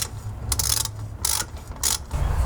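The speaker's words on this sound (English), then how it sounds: "to tighten up those screws on the back, you need to use a H5 socket" A socket ratchet with an H5 bit clicks in quick bursts while tightening rear brake screws on an MK2 VW Golf GTD, with three short rasping ratchet runs close by over a workshop background.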